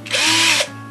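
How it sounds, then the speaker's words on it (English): A small drill bores a pilot hole into a cabinet in a short, loud, close burst lasting about half a second before winding down. "you need a small drill, just as a pilot hole"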